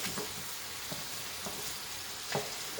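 Chicken and undiluted canned soup stirred in a hot pan: a steady sizzle runs throughout, broken by several soft scraping strokes of the utensil, close and with no voices.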